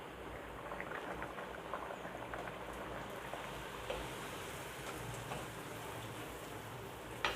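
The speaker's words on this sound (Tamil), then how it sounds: "இப்போ இதில் இந்த பூரியை போட்டுக்குவோம்." Puri dropped into hot oil and deep-frying, a dense, continuous bubbling sizzle with fine crackles, fairly quiet and steady, with no voices.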